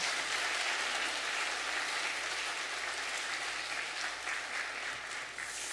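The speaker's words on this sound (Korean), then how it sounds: "박수하겠습니다." A church congregation at a Sunday worship service applauds after a prayer, a sustained, even wash of many hands clapping that fills the room and fades slightly toward the end.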